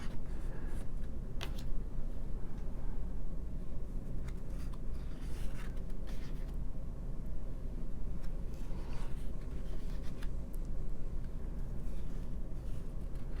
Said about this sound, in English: So this little envelope has lobby cards in it. Quickly flip through these.